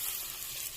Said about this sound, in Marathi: हे पहा, तडका खूप छान असा झाला आहे.